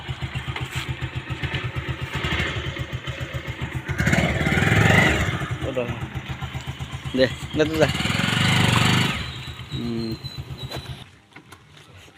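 A scooter engine idles and putters with an even pulsing rhythm close by, briefly revving louder twice before cutting off near the end, while people talk over it.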